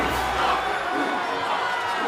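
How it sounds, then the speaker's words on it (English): Crowd cheering at the podrace in Star Wars Episode I, a dense roar of many distant voices shouting and cheering, loud and continuous with no pauses. "The crowds are going nuts."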